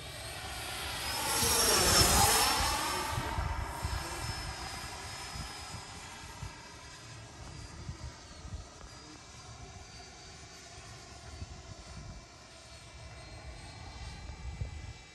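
Freewing F22 Ultra Performance 8S 90mm RC jet doing a gear-down flyby, its ducted-fan whine swelling as it passes close and then fading away into a steady distant hum.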